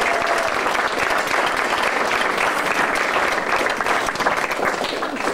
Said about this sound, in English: A big round of applause for Guy.